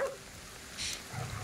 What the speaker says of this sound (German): Warum bellt er?